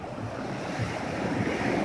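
Black Sea surf rolling in at sunset on the Kuban coast near Arkhipo-Osipovka, a steady washing roar with wind buffeting the microphone, swelling slightly toward the end, with no talking.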